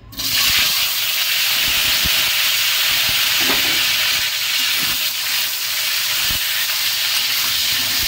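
Potatoes dropped into hot oil in a wok sizzle with a loud, steady hiss that holds for the whole stretch, with a few faint knocks underneath and no voices.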